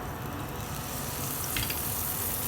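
Oil heats in a pan with a continuous broad sizzle and crackle, steady and fairly close, with a few brighter spits near the end and no voices over it.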